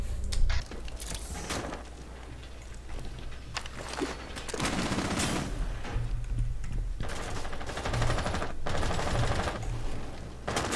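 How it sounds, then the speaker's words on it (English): Rapid automatic gunfire and repeated shots in a ranked Rainbow Six Siege match, with enemies firing from the top of a garage, bursts continuing steadily and fairly loud throughout. "They're shooting from the top of the garage."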